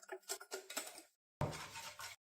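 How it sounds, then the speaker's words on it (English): A spoon scrapes and clinks inside a cooking pot while a milk and yolk mixture is stirred, heard as two short, close bursts with a brief gap between them. "keep stirring constantly until it's fully cooked"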